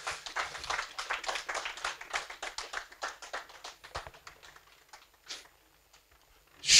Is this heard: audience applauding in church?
yes